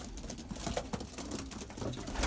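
Belgian racing pigeons, young birds among them, cooing softly in a loft alongside wing flutters and shuffling movement, a low continuous murmur of several birds close by.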